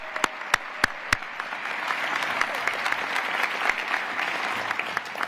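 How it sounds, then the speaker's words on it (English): Audience applause after the Owatonna High School choir performs at the Minnesota State of the State address, a steady dense clapping of a large crowd in a hall, with a few sharp close claps near the start. "one more round of applause for the Owatonna High School choir."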